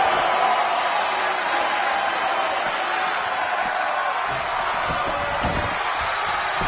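Loud, dense wrestling arena crowd roars and cheers steadily in WWE 2K20, a constant wall of noise with occasional slams and thuds rising through it.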